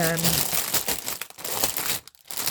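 A cross-stitch craft kit is pulled from its plastic bag, bringing close, busy crinkling and rustling with a brief tearing sound, and a person talks over it.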